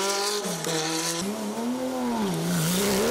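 A Porsche race car at a hill climb in the production-car class howls past with a rising and falling engine note through gear changes, loud and close, with a hint of tyre squeal.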